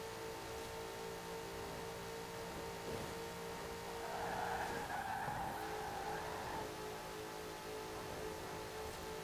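2010 Saleen S5S Raptor in Forza Horizon 4 cornering at speed, its tires squealing in a sustained skid over a steady engine drone for several seconds, moderately loud with no talking.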